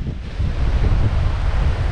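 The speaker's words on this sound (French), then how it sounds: "Bon, il y a beaucoup de vent." Strong coastal wind on the Cotentin shore buffets the microphone in a loud, continuous low roar that swells slightly after the first half-second and holds steady, with no voices.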